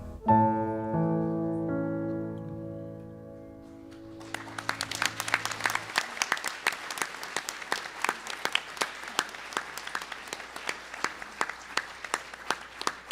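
A standing audience applauds a procession at an opening ceremony, dense clapping that starts after a sustained musical chord fades and continues steadily, fairly loud and close.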